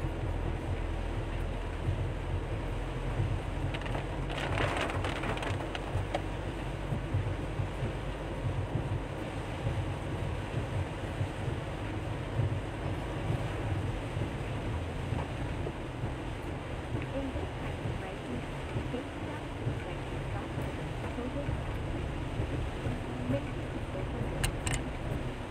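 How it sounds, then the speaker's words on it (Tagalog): Heavy rain pours steadily in the town of Boac during early morning, a dense, even roar of broadband wash with low rumble, constant throughout and close, with no talk over it. "napakalakas ho ng buhos ng ulan sa kasalukuyan"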